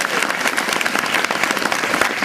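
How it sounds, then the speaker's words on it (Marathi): An audience applauds its teachers at a school or institute gathering, with dense, loud, steady clapping from many hands that fills the whole moment. "म्हणून शिक्षकांसाठी एकदा जोरात टाळ्या वाजवा"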